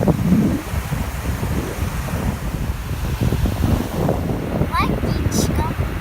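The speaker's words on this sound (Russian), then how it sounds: "Смотрите, море." Sea waves wash onto the shore under gusting wind that buffets the microphone, a continuous rough rumble with a voice nearby and a few brief high chirps toward the end.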